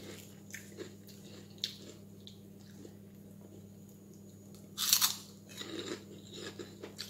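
Crispy food being bitten and chewed at a home dinner, with soft crunches scattered throughout and one louder, sharper crunch burst near the middle, close and alone without talk.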